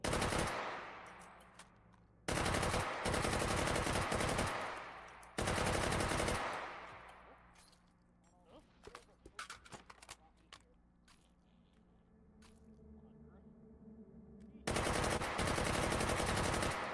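Single gunshots followed by reload clatter in a first-person shooter game, a weapon with a 100-round drum magazine reloaded after every shot; loud bursts separated by quieter mechanical handling sounds, with another stretch of firing at the end.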